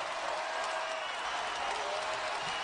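Basketball arena crowd at an Akron versus Kent State game applauding and roaring after a play, a dense, steady wash of clapping and cheering that fills the whole moment.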